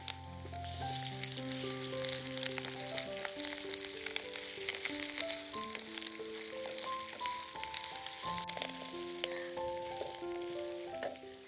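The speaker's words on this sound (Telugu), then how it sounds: "కొంచెం అలాగా కరివేపాకు చిట్టపెట్టలు ఆడుతుండగానే అల్లం వెల్లుల్లి పేస్ట్ కూడా వేసేసి పచ్చివాసన పోయేది వేపుదాం." Ginger-garlic paste, onions and curry leaves fry in hot oil with a steady, dense sizzle and crackle that runs throughout, under a layer of melodic background music; no one speaks.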